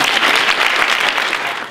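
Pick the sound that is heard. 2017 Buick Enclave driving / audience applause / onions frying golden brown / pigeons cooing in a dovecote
audience applause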